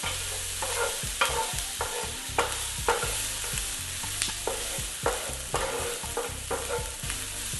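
Onions sizzle in hot oil in a pan for sloppy joes while a utensil scrapes and stirs them in repeated, close knocks and scrapes over a constant frying hiss, with no talking.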